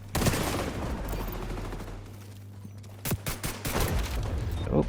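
Pistol gunfire with added fire damage in the shooter game XDefiant: rapid loud bursts of shots crack over a steady low hum, thinning out and then returning in clusters toward the end.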